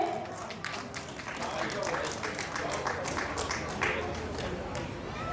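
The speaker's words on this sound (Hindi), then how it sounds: "जोरदार तालियां बजती रहनी चाहिए।" Applause at a poetry recital at the Deoghar book fair, a broad steady wash of many hands clapping across the hall, with crowd murmur mixed in throughout.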